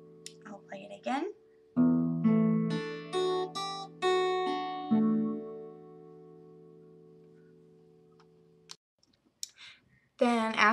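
A short talking bit leads into an acoustic guitar riff, several bright plucked notes ringing over one another and decaying into a long fade, with speech returning at the close.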